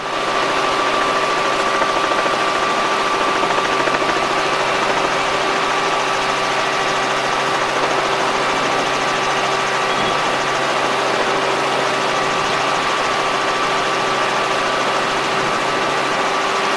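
A Robinson R44 helicopter's engine and rotors running in flight, a loud steady drone with constant hum tones and no letup.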